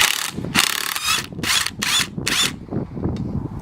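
Strut top mount nut being undone with a power tool, five rapid ratcheting bursts of the impact gun at close range, each about half a second with short gaps, followed by quieter mechanical handling.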